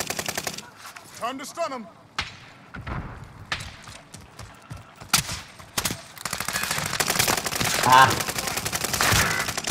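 Gunfire crackles in a multiplayer shooter match, with sharp shots and short bursts scattered across the clip and denser firing toward the end, mixed with game noise while players talk over it.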